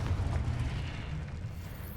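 A Confringo blasting curse explodes in the Hogwarts Legacy game, giving a deep, sustained rumbling boom that slowly fades over two seconds.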